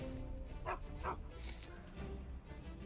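A dog in the game Final Fantasy VII Rebirth gives two quick yips over steady background music and game ambience, fairly faint under the mix.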